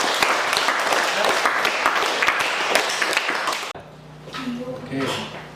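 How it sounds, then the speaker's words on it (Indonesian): Classmates in a classroom give a burst of lively applause that stops abruptly, followed by quieter room sound and faint voices. "Tepuk tangan."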